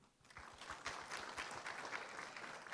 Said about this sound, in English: please give a big round of applause once again